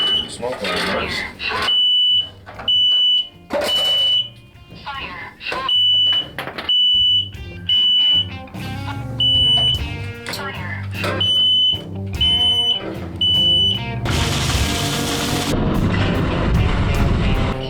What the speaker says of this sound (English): Smoke alarm noise.